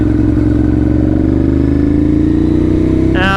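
A KTM Duke 890 motorcycle engine running steadily, loud and close with a constant idle drone, ending in a brief higher rev or clatter.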